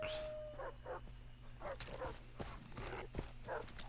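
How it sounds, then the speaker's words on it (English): Dogs bark in Far Cry 3, a string of short, fairly faint yelps repeating at an uneven rhythm over a low steady background hum of the game world. "Nope, those are dogs."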